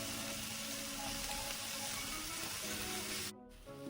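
Tomatoes sautéing in a pan for a mussel (kallumakkaya) fry give a steady, soft, close sizzle that runs evenly before briefly dropping out near the end.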